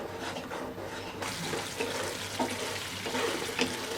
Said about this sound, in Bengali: মশলাটা আমি এভাবে নেড়ে চেড়ে ভালো করে কষিয়ে নেবো যাতে করে মশলা থেকে তেল ছেড়ে দেয়।